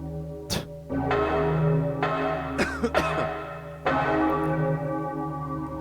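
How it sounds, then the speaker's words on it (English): Church bells toll in Resident Evil 3: several loud, spaced strikes, each ringing out in a long, humming decay. No one speaks. "So now the bells are tolling."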